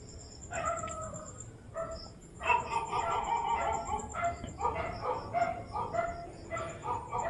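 Several dogs bark in bursts at a distance over steady night insects, many frogs and background hum near a cemetery.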